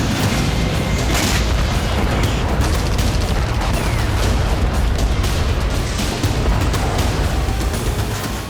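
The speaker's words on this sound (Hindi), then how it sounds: "येवपतोरिया का कोना कोना जबरदस्त ब्लास्ट और बारूदी गुबार से दहल उठा" Deep, continuous booming from missile and drone strikes on Yevpatoria, Crimea, in news footage, a loud, dense rumble of explosions and blasts that stays steady and heavy for the whole stretch, with no voices over it.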